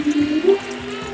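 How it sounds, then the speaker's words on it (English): Water runs from a hose into the reservoirs of a GreenStalk vertical planter in a garden, a short close splashing gush with a gurgling pitch that steadies into a softer flow. "So I'm going to turn the water up."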